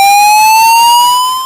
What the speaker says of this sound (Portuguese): Se nós pegarmos um outro som também forte, porém agudo, como é o som dessa sirene.